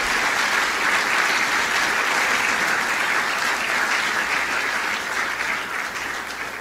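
Sustained audience applause filling a church service after a preacher's call, dense and steady clapping throughout, tapering slightly toward the end.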